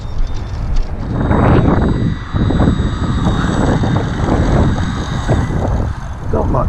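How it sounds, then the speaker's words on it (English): The electric motor of a Horizon Mini Apprentice S RC plane whines loudly and steadily in flight, with its pitch wavering up and down, while someone talks over it outdoors. "flying a plane's a lot harder than an RC car."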